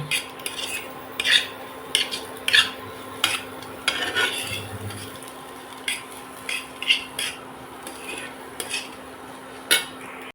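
Chowmein with potato, onion, peas, egg and butter being stirred in a pan, giving scattered close metallic clinks and scrapes of utensil on cookware over a faint hum, with no talking.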